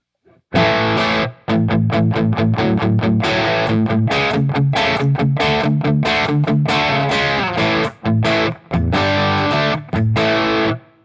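Electric guitar played through an amp in normal mode with low gain and EQ at noon, loud strummed chords and chugging riffs with crunchy breakup, short rhythmic bursts separated by brief stops.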